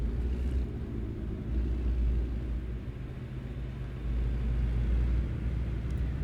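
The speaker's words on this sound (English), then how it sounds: "A lot of traffic, a lot of trucks heading out this way." Steady low road rumble of traffic in American Truck Simulator, cars and trucks passing on a Wyoming road, swelling louder around the start and again near the end with no talk over it.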